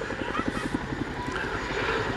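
A twin-rotor Chinook helicopter flies an airshow display, pitching through a roller-coaster manoeuvre, its rotors giving a loud, steady, rapid thumping beat that fills the air.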